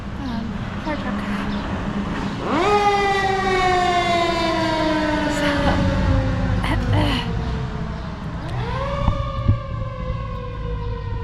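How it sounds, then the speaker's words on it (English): A fire truck siren rising and sweeping as it passes nearby on a street during a walk, loud tonal wails over traffic rumble, with a second rising sweep near the end and a voice speaking briefly. "Fire truck."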